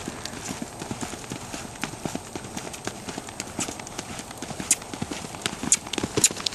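A mustang gelding being ridden, its hooves clip-clopping in a steady, even rhythm of close, crisp thuds on the ground, continuous throughout with faint background noise and no clear talk.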